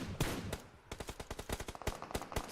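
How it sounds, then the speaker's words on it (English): Rapid bursts of automatic gunfire in a PUBG Mobile esports match, a video game, with a quieter stretch and then a steady string of sharp shots that crack close and loud. "we're hearing a lot of gunshots indeed around"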